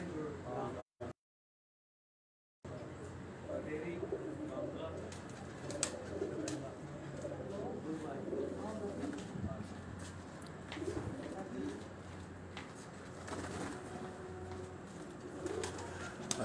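Pigeons, among them a black-faced pigeon, coo softly on a rooftop, low murmuring calls repeating over quiet background noise after a brief silent gap near the start.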